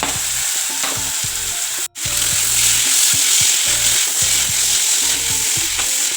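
Chopped tomatoes fry in a pan for fish keema, a loud continuous sizzle with repeated stirring scrapes and one brief cut-out, close with no talking.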